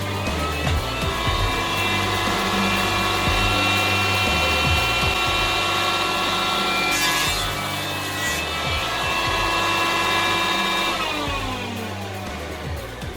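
A woodworking jointer edges a piece of wood stock with a loud, steady motor whine and a rough cutting rasp as the board passes through, close by and with no talking.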